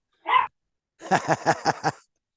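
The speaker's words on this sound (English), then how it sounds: "oh, dogs" Dogs barking indoors: one short bark, then a pause and a run of five or six rhythmic barks, loud and close, with no voices over them.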